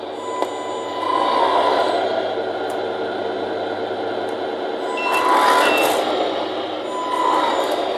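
A Tamiya Arocs 4151 8x4 RC tipper truck drives with its reversing beeper sounding a steady run of electronic beeps over a faint motor whine, with no talk.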